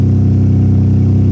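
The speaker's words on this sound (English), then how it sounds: "if you want to hear the engine running, that's the engine running there." Engine of a lightning-damaged 2016 Jeep Latitude running without its exhaust fitted, a loud, steady low rumble with a constant idle drone, close up and uninterrupted.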